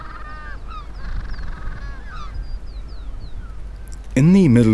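Penguins calling at a crowded nesting colony in Patagonia, with a low steady background of many birds, faint squeaks and honks, then a loud, close braying call bursting in near the end.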